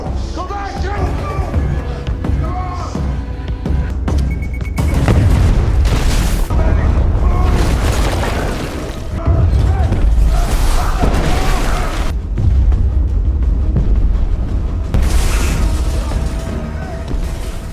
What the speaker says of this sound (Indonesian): berhasil meledakkan bom yang sudah mereka